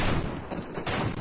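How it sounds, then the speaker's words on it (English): Rapid squad gunfire in the video game Fortnite, dense bursts of shots running loud and continuous across the whole moment with no talking. "We gotta start firing now."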